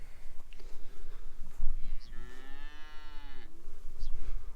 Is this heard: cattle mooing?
yes